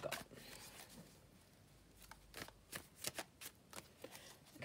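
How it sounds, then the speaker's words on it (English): Tarot cards being shuffled and laid down, with soft riffling and a series of quick crisp slaps and snaps, faint and close in a quiet room. "I will pop down some cards to just have a look and see what the week ahead is like for us"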